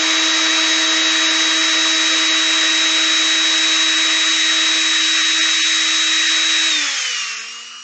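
A power drill whines steadily at high speed drilling through a metal seat base on a Kawasaki KZ400 motorcycle build, loud and close, then winds down as the motor slows at the end.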